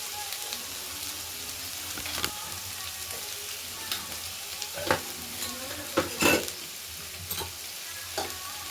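Dried fish with flat beans and potatoes being sautéed in a pan: a soft continuous sizzle with scattered scraping and clinking stirring strokes, close and fairly quiet, no talking.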